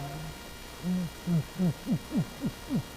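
A human voice imitates a pigeon's coo during a Tajweed recitation lesson, producing a series of about seven short, rising-then-falling hooting coos in quick succession, close and clear.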